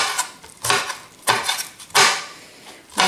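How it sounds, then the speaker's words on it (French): Knife chopping softened black mushrooms into small pieces on a cutting board, four or five sharp, distinct cuts spaced roughly half a second apart, close and fairly loud with no voices. "j'ai pris les champignons noirs ramollis que je vais couper en petits morceaux"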